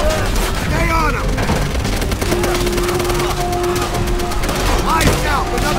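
Dense, continuous gunfire rattles through a battle in Call of Duty: World at War, with rapid machine gun bursts and explosions layered over shouting voices.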